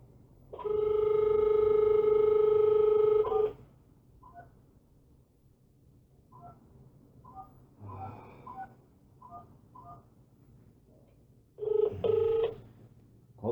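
A phone call being placed: a long steady electronic ringing tone, then a quiet stretch with scattered short dial beeps and faint noises, and another burst of ringing near the end.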